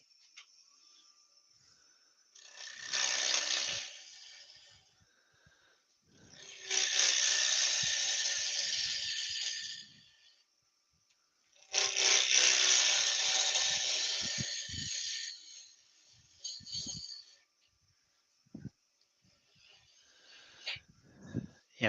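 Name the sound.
woodturning ash wood on a lathe with bowl tools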